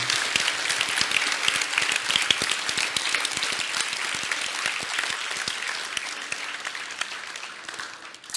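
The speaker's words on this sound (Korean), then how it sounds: "우리 하나님께 영광의 박수 올려드립니다." A congregation at a testimony service breaks into sustained applause, a loud, dense wash of many clapping hands that holds steady for several seconds before tapering off near the end.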